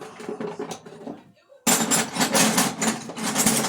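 Metal wrenches and screwdrivers set down on a workbench, first some softer clinks and rustles, then a short silent gap, then a loud run of clattering, knocking metal tool impacts up close.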